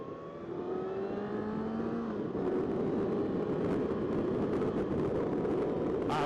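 A 2020 Kawasaki Ninja ZX-6R KRT Edition is ridden in third gear at about 45, its engine note climbing steadily under rushing wind noise, with no talk.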